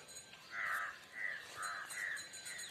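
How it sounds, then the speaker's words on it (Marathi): Crows caw several times in the morning near a farmhouse backyard garden, a few harsh calls spaced through a quiet outdoor scene at moderate distance. "सकाळी सकाळी पक्ष्यांचा किलबिलाट ऐकू येतो, आत्ता सुद्धा येतोय बघा. कावळा,"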